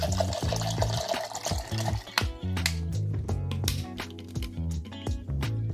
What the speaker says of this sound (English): now I'm going to add some bottles of water so I fill my pitcher up